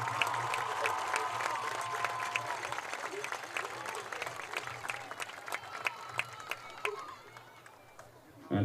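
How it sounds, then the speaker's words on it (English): A crowd at a high school homecoming football game applauds homecoming queen candidates with sustained, moderately distant clapping mixed with chatter and scattered cheers, beginning under a voice and fading near the end. "Let's give all 10 candidates and their families a rousing applause"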